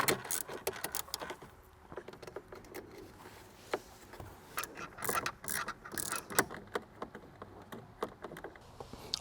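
Ratchet backing out two 8mm bolts inside a 2024 Honda Ridgeline during an amplifier install, with faint, quick clicking strokes coming in short irregular bursts, close but quiet and with no talk.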